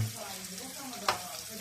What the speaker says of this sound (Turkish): Hafiften karıştırıp tekrar kapağımızı kapatacağız.